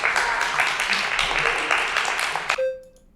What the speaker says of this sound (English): They all clap.